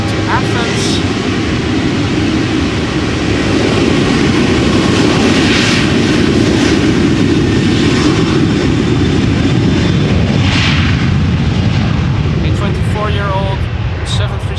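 A Transavia Boeing 737-800 takes off from the Polderbaan at Schiphol in gusty crosswind, its broad jet roar loud and steady throughout, with a voice talking over it.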